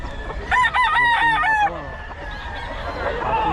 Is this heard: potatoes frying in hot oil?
no